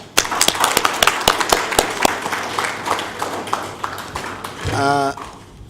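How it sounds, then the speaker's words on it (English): Delegates at a governing board meeting applaud the panelists with distinct, scattered claps ringing out one after another in a reverberant hall, tapering off before a voice speaks briefly near the end. "I now ask the delegates to give a very big hand of applause to the panelists."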